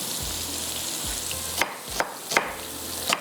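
Onion and other ingredients sizzling on a hot tawa, a steady frying hiss with a few sharp stirring clacks of a spatula against the pan, close and moderately loud.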